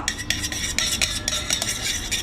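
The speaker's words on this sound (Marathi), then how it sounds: "आता आमकां ह्या दहीक इवनली फेटून घेऊ का" A spoon or whisk beats curd with gram flour and turmeric in a bowl, a close, rapid run of scraping clinks against the sides with no talk.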